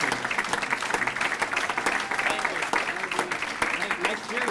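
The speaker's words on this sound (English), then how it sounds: "a big round of applause to these guys that are in the trenches each and every day for our kids" At a Boys & Girls Club gala, the audience gives a steady round of applause, sustained clapping with a few whoops, while voices murmur and talk through it.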